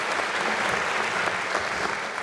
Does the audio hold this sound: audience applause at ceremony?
yes